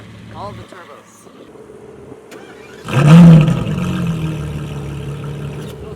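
A turbocharged car engine suddenly revs loudly and settles into a sustained drone, with talking audible underneath, at Monterey Car Week.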